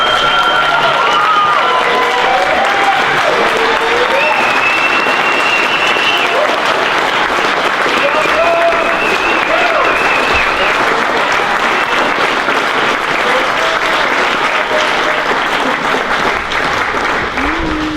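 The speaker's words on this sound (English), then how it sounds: "Please join me now by standing up for him and giving Mr. Marcus a well-deserved round of applause." A large audience rises for a standing ovation for Mr. Marcus, giving loud, sustained applause that fills the whole stretch, with cheers and raised voices mixed into the clapping.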